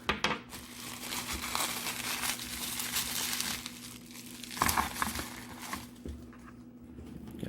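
Small ODroid Go handheld parts (buttons, screws, battery, SD card) being wrapped back into plastic packaging: steady close crinkling and crumpling throughout, with sharper crackling bursts near the end.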